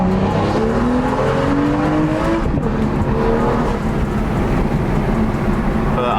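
A retuned BMW E30 drives hard, its engine roaring loud and close with rising revs that climb and shift, plus a hint of tire noise throughout.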